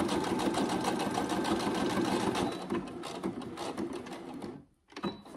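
A sewing machine stitching vinyl runs in a steady fast mechanical chatter for several seconds, slows, briefly stops, then starts again.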